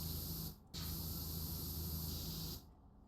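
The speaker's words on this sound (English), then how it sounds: "How the heck am I supposed to get that with a power washer?" A power washer sprays in PowerWash Simulator, a loud steady hiss of water that cuts out briefly, resumes, then drops to a quieter hiss near the end.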